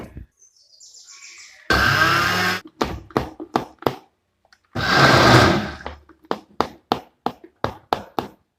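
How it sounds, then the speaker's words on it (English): Two bursts of a blender pureeing fresh washed tomatoes, the first about a second long and the second about one and a half seconds, each loud and close. Sharp tapping knocks follow each burst. "So we'll just blend it thoroughly."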